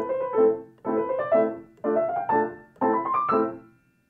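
A piano passage is played with combined forearm motions in four phrased groups of quick rising notes, each group separated by a brief pause, close and clear with no talk.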